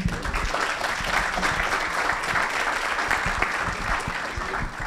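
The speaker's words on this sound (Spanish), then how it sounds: "Muy bien, aplausos." Audience applause at a talk about football, dense steady clapping that fills the whole stretch at moderate loudness.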